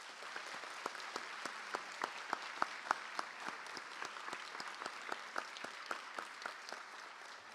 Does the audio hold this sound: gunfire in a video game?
no